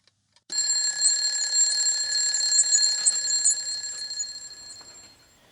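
A Google Home alarm goes off in the morning, a steady, bright electronic beeping that starts abruptly after a faint click, repeats in a regular pattern and gently fades toward the end, with no talking.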